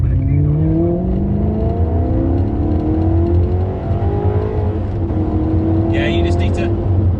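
A Maserati with a Ferrari V8 engine roars steadily while driving, its note climbing through rising gear sweeps close and loud, with a brief voice near the end.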